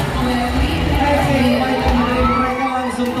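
Crowd at a sea lion and mermaid show at Ocean Dream Samudra Ancol, cheering and shouting with children's voices mixed in, a loud sustained din of excited audience noise throughout.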